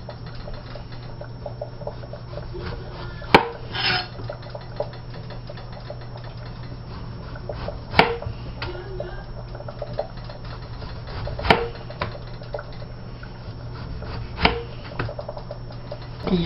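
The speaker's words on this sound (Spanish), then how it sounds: "Ahora voy a partir en rodajas el tomate." A knife slicing a tomato on a cutting board: a few sharp, separate cuts spaced several seconds apart, close and clear over a steady low hum, with no talking.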